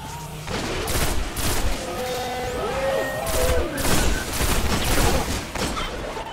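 Rapid bursts of weapon fire in the video game Destiny on PS4, with repeated loud volleys of shots mixed with game effects, continuous and close throughout.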